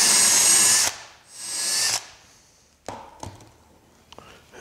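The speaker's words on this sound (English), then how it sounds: "we can now drill the rest of the holes quickly and efficiently" Power drill boring shelf pin holes in a cabinet side through a drilling jig: two loud, close, high whining bursts of under a second each, followed by scattered sharp clicks and knocks as the bit and jig are handled.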